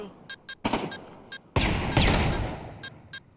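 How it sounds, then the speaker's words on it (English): Gunshots in a VR shooter match, sharp isolated cracks spaced irregularly with a couple of longer, louder bursts of fire in between. "Chill Step's just heard the gunfire from Kiwi."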